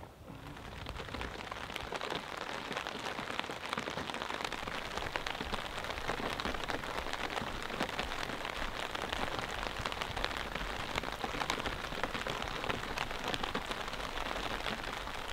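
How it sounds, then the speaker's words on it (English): Rain patters on a OneTigris Cosmitto 2.0 waterproof tent at night, a dense steady drumming of drops, close and continuous with no voices. "It's about 10 p.m. and it's raining."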